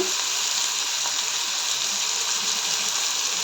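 Onions and potatoes with green chillies sautéing in a pan for kande pohe make a loud, continuous sizzle with a watery hiss, steady from start to finish.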